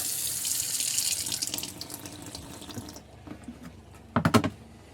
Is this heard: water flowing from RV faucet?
yes